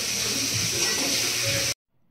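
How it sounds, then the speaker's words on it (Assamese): Fish and nimki fry in hot oil as a dense, continuous sizzling hiss that stops abruptly near the end. "নিমকি এয়া, আৰু লগতে মাছো ফ্ৰাই কৰি থকা হৈছে।"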